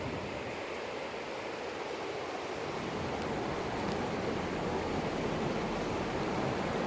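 Broad, steady rush of flowing river water heard close by, continuous and unbroken for the whole stretch, with no voices over it.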